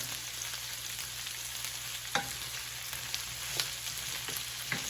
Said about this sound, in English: We always get a little brown on the potatoes, so it'll take a couple minutes.